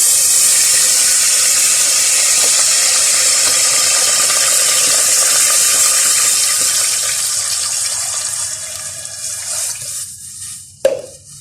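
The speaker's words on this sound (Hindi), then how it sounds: "इसमें अब मैं ये यखनी डाल दूंगी।" Yakhni stock hits hot oil with fried garlic and ginger for Schezwan chilli chicken, giving a loud, close, steady hissing sizzle that slowly dies down, then a sharp clatter near the end.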